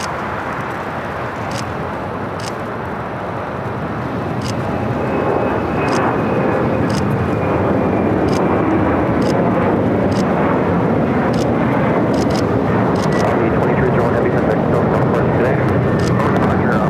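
A Korean Air jet airliner moves along the north side of LAX, a wide rumbling roar that builds after a few seconds and holds strong. Sharp intermittent clicks cut through it, with occasional faint voices.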